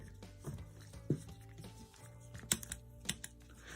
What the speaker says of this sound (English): when you press the pedal, there's a clicking sound within this mechanism here.